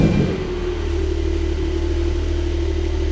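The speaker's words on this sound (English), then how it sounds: "I think I need to start the car." A Porsche 992 Turbo S starts up with a short burst, then settles into a steady, loud low rumble and drone at idle, heard up close with no talking.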